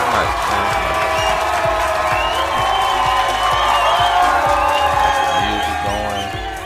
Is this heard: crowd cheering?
yes